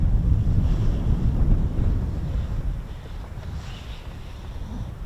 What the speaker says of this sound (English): Little bit windy, isn't it, Ted?